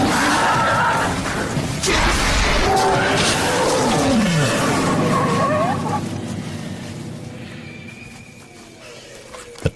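A tiger roars and calls in apparent distress, loud and close, with strained, wavering cries that rise and fall over a rough wild background before fading toward the end.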